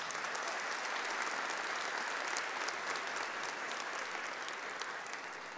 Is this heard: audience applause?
yes